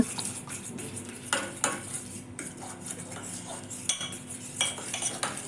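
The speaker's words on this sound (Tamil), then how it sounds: "அதை கொஞ்சம் சேர்த்து அதையும் மிக்ஸ் பண்ணுறாங்க" A spoon stirs boiled and cooled milk into a chicken lollipop marinade in a bowl, giving irregular close clinks and scrapes of metal against the dish, with no talking.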